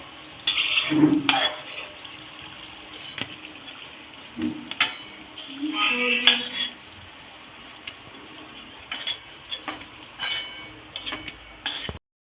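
Fried palm-fruit pitha is lifted out of a pan of oil: scattered metallic clinks and scrapes of a utensil over a faint sizzle, with quiet gaps between.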